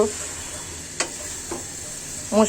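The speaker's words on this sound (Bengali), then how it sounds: "এখন দেখুন, মশলা সহ আমার সিদ্ধ করা মাংসটা কষানো হচ্ছে।" Boiled meat browning with spices in a pan for a pumpkin and potato chicken curry, giving a soft steady sizzle under a few spatula scrapes and stirring clatters near the end.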